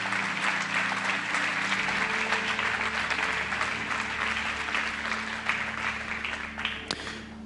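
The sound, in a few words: church congregation applause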